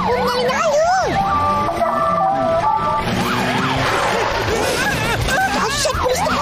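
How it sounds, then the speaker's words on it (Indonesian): A police motorcycle siren wails loudly with rapid rising-and-falling sweeps and steady tones, other sirens and traffic mixing in, with voices talking underneath in an animated street scene. "Tak tahu pun siap bunyi siren dan ada lampu menyala-nyala."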